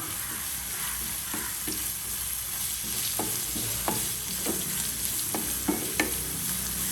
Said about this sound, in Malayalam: ഇഞ്ചി എല്ലാം ആഡ് ചെയ്ത് കൊടുക്കാം ഇനി അതൊന്ന് ഇളക്കി കൊടുക്കാം